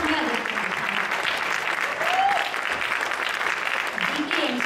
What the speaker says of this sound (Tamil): இது எல்லாரோட கரகோஷமே